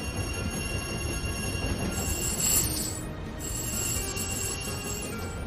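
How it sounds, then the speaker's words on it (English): A train rolls along in the Tiny Rails video game with a steady mechanical rumble and hum, a brighter chiming swell in the middle, and no talking. "I've now got a snow catcher on the front of my train so I can get back up to full speed."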